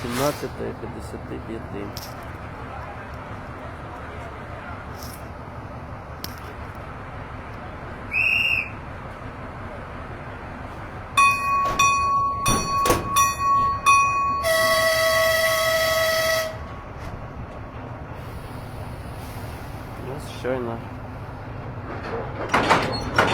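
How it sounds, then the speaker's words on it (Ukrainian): Children's railway in Dnipro as the train departs: sliding doors shut with hissing thumps, a high whistle blows, and a long electronic tone sounds, with announcements and voices heard around it. "Потяг відправився."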